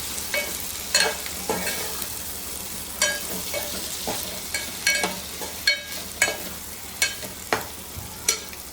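Curry sizzles gently in a pan while a spoon stirs and scrapes it in irregular clinks and scrapes, close up, with no talking.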